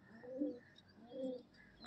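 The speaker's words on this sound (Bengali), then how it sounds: "সব রামপুরি পায়রা।" Rampuri pigeons give two soft, rolling coos in close succession, quiet and near, with nothing else heard.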